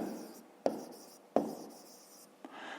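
Pen strokes on paper while a fraction is written out by hand, with soft continuous scratching and two sharp taps as the pen lands, close and quiet, no voices.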